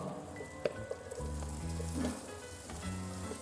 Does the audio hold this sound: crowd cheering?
no